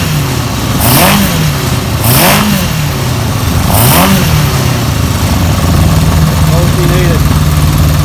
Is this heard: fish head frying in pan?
no